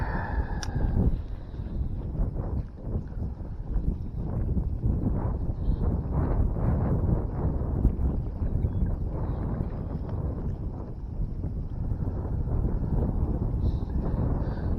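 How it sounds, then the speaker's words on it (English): Steady wind gusts buffet the microphone on a lake while fishing for crappie, a continuous rough rumbling roar that stays loud throughout with no talking. "the wind is blowing your line in so much"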